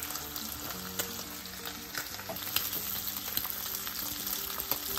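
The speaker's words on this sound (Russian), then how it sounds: "Мне кажется, что это один из самых вкусных звуков, шкварчащий бекон." Bacon sizzling in a frying pan for a breakfast frittata, a dense crackling fry with scattered pops and spits, fairly close and steady, no one speaking.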